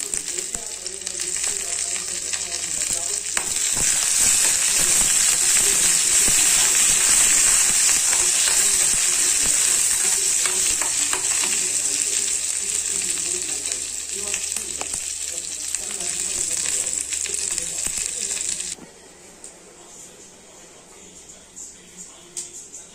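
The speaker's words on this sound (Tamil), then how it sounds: "வெங்காயம் நல்லா வதங்கிடுச்சு. கருவேப்பிலை போட்டுக்கலாம்." Curry leaves dropped into hot oil with sautéed small shallots for a fish curry, sizzling loudly and steadily close up for most of the clip before the frying abruptly drops to a quieter simmer.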